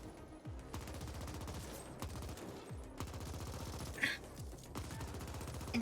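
A player's gun firing in The Ascent video game, several rapid bursts of shots separated by short pauses, loud and close over a steady game background.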